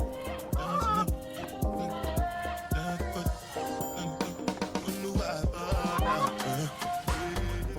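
Several chickens on a farm, near hay, cluck loudly and close in rapid, uneven bursts, with overlapping squawks and honk-like calls throughout.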